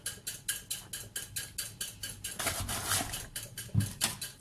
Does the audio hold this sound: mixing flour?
yes